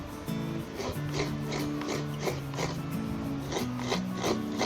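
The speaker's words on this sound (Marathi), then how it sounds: "त्याच्यावरच मी खोबरं किसते" Rhythmic rasping scrapes of coconut being grated by hand, repeating steadily about twice a second, close by, with a low humming tone underneath.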